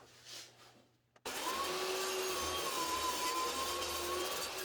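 After a faint rustle, a saw blade cutting an MDF board on a sled starts abruptly and holds a loud, steady, high whine that runs to the end.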